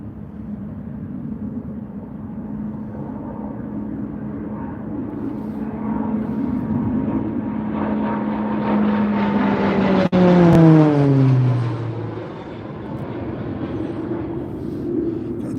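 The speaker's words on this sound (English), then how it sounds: "We've got a Texan." A North American T-6 Texan propeller aircraft flying low through the Mach Loop, its engine drone building steadily, peaking loud and near as it passes, then falling in pitch with a clear Doppler drop as it moves away.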